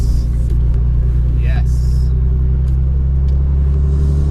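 Steady engine and road rumble of a Nissan 240SX throughout, constant and close, with a brief higher whine midway and people talking over it.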